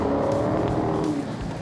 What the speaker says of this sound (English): Going backwards at a high rate of speed, spinning the car around, not losing momentum